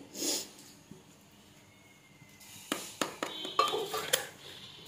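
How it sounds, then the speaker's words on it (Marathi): A spoon scrapes and clatters in a bowl as onion and tomato are mixed into a corn flakes chaat, a quiet run of close clinks and stirring taps that grows busier toward the end, with no talk. "त्याच्यानंतर हा कांदा आणि ही टमाटा वगैरे सगळं मिक्स करून घ्यायचंय।"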